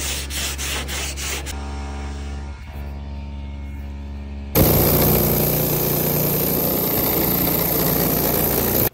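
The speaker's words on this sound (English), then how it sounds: "I've got some Bondo in some spots. I'm gonna sand down, try and get it all flat." Bondo filler sanded on a fire-warped car hood of a Nissan 240SX: steady rubbing abrasion over an engine-like motor drone, then a louder, harsher continuous sanding roar from the midpoint, close and sustained.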